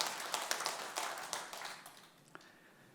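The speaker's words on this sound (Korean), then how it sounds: "자, 다시 한번 하나님께 감사와 영광의 박수 한번 올려드리고," A church congregation claps in a brief, loose burst that is moderately close but not loud. The clapping thins out and fades within about two seconds.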